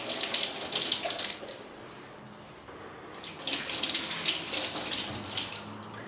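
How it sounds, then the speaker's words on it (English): Fresh ginger root rinsed under a running kitchen tap, a steady splashing stream of water that swells loudly at the start and again near the end, with no voices. "I have this fresh ginger root that I'm going to rinse and grate."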